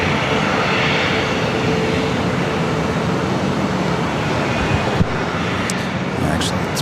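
A corporate jet rolls down a runway at LAX on a hot day, its engines making a steady loud broadband roar with wind buffeting the microphone.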